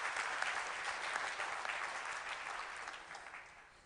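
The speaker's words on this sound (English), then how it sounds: "So maybe we can clap to him" Sustained applause from a conference audience at a plenary panel session, dense and steady clapping that slowly tapers off toward the end.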